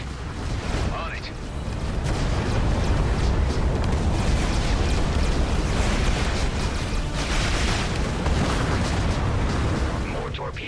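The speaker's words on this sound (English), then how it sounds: "there is a barrage of torpedoes incoming" A torpedo barrage in the Everspace 2 space combat game produces a dense, continuous roar of rumbling explosions and bursts that stays loud and sustained throughout, with a voice speaking briefly over it.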